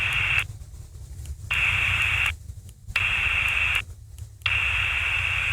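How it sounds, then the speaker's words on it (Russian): A Harris RF-5800H manpack HF radio receiver hisses with loud steady static that cuts out abruptly three times as the squelch switches on and off, leaving quiet gaps between bursts of receiver noise. "У нас включится шумоподавитель, и шум приемника пропадет."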